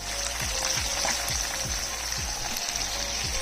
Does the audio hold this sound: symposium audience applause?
no